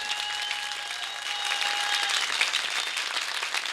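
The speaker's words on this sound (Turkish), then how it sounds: "Alkışlar güzel bugün" Studio audience applauding after a Turkish folk song performance on a television program, sustained clapping with a fading sung or instrumental tone at first and building slightly toward the end.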